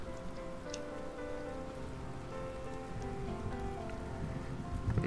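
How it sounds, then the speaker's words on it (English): Light drizzling rain falling steadily on surfaces, a soft continuous patter with faint scattered drops, quiet and even with no talking. "the rain continues to drizzle and lighten"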